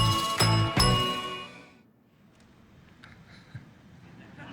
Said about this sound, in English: Just hear that bell ding and that sound, it just infuriates me.